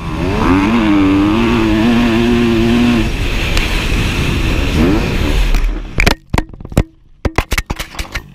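A motocross motorcycle engine roars loudly and steadily, rising and falling in pitch as the rider works the throttle, then abruptly breaks off into a cluster of sharp cracks and thuds as the bike crashes on a corner.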